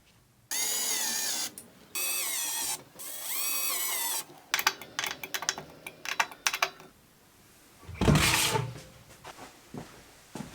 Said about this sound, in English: an overpowered drill gives when tightening up rotor bolts